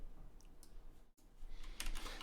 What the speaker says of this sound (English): you could type in site colon